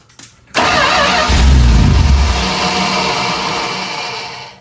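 A 1978 Dodge D150 pickup, neglected and sitting for 20 years, cranks briefly with the choke partly set, then catches and roars loudly before settling into a steady, close, slightly dropping idle.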